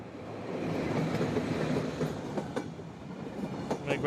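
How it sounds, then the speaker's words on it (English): A train sound effect taken from a game-engine asset library: a steady rumbling rail roll with rhythmic clickety-clack of wheels over joints, moderately loud and continuous, with no voices over it. "Let's say I wanted the sound of a train, but I only want to hear the sound of the train once."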